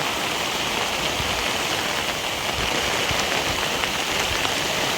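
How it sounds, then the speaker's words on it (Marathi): Heavy rain falls in a thick, steady downpour near rice fields, a loud, unbroken wash of drops hitting surfaces with no voices over it. "खूपच पाऊस येतोय"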